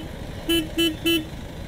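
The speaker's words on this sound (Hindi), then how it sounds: "हॉर्न इसका हल्का है," Royal Enfield Hunter 350 motorcycle horn giving three short, light toots in quick succession, close and clear over low traffic rumble.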